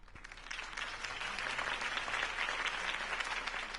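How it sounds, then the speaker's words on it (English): Sustained crowd applause and cheering from a Batman video game rally scene, a dense steady roar of clapping lasting several seconds with no one speaking over it. "could have heard that applause"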